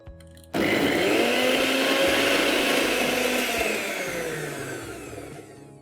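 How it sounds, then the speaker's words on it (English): A blender grinding spinach into a puree starts abruptly and whirs loudly, grinding steadily for several seconds before its pitch and volume gradually ease off. "Just add it in the blender"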